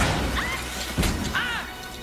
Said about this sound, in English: Then we fade into a literal explosion